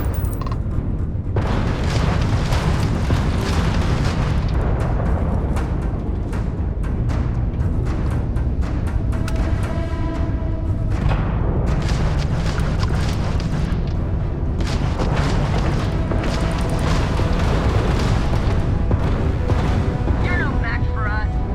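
Spaceship weapons fire and explosions in the Starfield video game, a dense, continuous barrage of loud booms and blasts throughout, with speech-like game audio mixed in.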